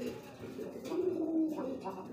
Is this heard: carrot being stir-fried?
no